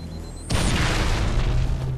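A Halo 3 grenade explodes during a grenade jump, one sudden loud boom that hits hard and leaves a rumbling tail for over a second.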